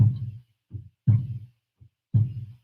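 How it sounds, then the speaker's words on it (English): A deep drum is struck in a heartbeat rhythm of paired thumps, a strong beat and then a softer one, repeated three times. It is close and played alone. "Just listen to the heartbeat."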